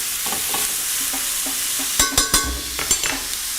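Sauce cooking down in a pan, with a soft steady sizzle and several sharp clinks and scrapes of a utensil stirring against the pan.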